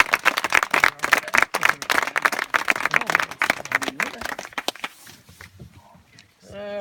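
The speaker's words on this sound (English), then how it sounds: "give a round of applause to our National Park Rangers and our National Park Mules" A crowd claps for park rangers and their pack mules at a mountain hut, dense applause running for about five seconds before tapering into scattered claps and quiet.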